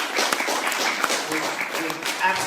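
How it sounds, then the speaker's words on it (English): Audience applause for a child performer on a school stage, a steady dense patter of clapping that stays fairly loud throughout, with voices mixed in underneath. "a huge round of applause for the child"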